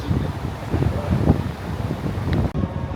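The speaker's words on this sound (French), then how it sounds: "il y a un vent de tous les diables" Strong wind buffets the microphone on the deck of a Disney cruise ship at sea, a loud, continuous rumbling roar with gusty swells that cuts off abruptly near the end.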